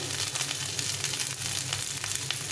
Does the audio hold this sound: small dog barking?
no